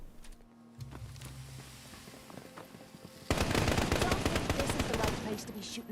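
A new modded machine gun in Fallout 4 fires a rapid, loud burst of shots that begins partway through and continues to the end, after quieter game sounds and a brief voice.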